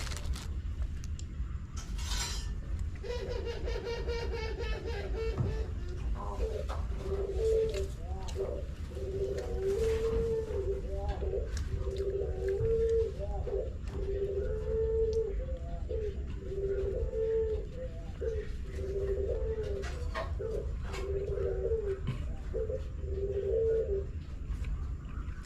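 Pigeons or doves cooing at dawn in a coastal Indonesian village, a steady run of low, rhythmic, repeated coos that carries on for about twenty seconds over a constant low background hum, with a brief clatter near the start.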